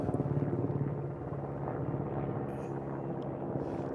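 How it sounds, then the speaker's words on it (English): A military helicopter flies overhead, its rotor thumping in a rapid steady beat over a loud, continuous engine drone that stays close and strong throughout. "It's a military helicopter."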